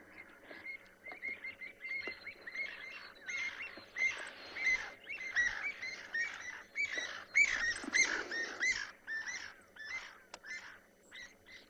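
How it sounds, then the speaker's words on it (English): An African harrier hawk on a sunset safari gives a rapid series of squealing, chittering calls in repeated bursts, fairly close and clear over quiet bush for about ten seconds, with no talk. "did you all hear that? I think a harrier hawk was having a bit of a hard time there."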